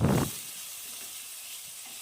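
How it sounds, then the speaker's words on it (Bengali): Chopped potatoes with salt and turmeric fry in a pan, opening with a brief loud hissing burst that settles into a faint, steady sizzle. "আলুগুলো দিয়ে সামান্য একটু লবণ আর সামান্য একটু হলুদ দিয়ে আলুগুলো ভালো করে ভেজে তুলে নিতে হবে"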